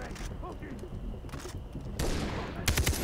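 Sniper gunfire in the co-op shooter Far Cry 3, with a loud crack and a short rapid burst of shots near the end following a quieter stretch of game ambience, with someone speaking French.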